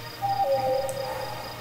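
An owl hoots in the Proteus video game, a clear tonal call sliding slightly downward, heard twice in quick succession over a quiet ambient backdrop with a faint steady hum.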